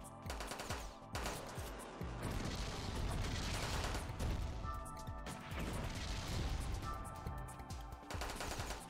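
Twin machine guns firing in the Metal Dogs bullet-hell dungeon crawler: dense, nonstop rattling gunfire with crashing impacts over game sound, loud and steady for the whole stretch, with no talk.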